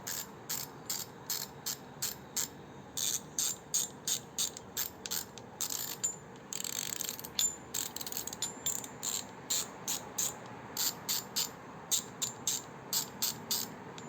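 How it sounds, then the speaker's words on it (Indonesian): Two 3/8-inch ratchet wrenches, a compact Toho and a Tone, clicking in short rapid bursts of fine metallic ticks, one after another with brief gaps, close and fairly quiet. "Suara ratchet atas Toho bawah tone."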